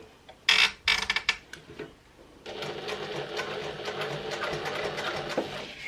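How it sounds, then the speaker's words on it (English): Sewing machine topstitching around the edge of a fabric clutch wallet, starting with a few short stuttering bursts, then settling into a steady close rhythmic stitching hum. "And then I'm going to top stitch. I'm going to top stitch round."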